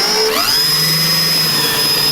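A power drill with a 1/4 inch bit drills holes during a low-profile microwave installation, its loud steady whine spinning up at the start and then holding constant with no talking.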